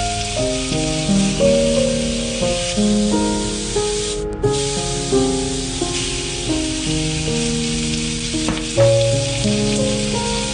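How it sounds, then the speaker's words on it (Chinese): Diced meat fries in hot oil in a pan with a loud, continuous sizzle close by, while steady background music plays and no one speaks. "煎炒肉丁。"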